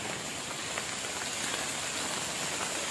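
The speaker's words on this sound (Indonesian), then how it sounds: "Nih hujannya. Wow, sangat lebat." Heavy rain pours steadily in a forest at a campsite, a dense, even hiss of drops striking leaves and ground with no break, close and loud.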